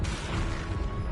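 A Confringo blasting spell explodes in a Harry Potter video game, filling the whole moment with a loud, dense, rumbling blast that roars steadily without a break.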